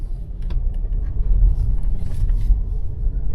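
A taxi car drives through city courtyards, giving a continuous low road rumble inside the cabin, with small rattles and bumps on top.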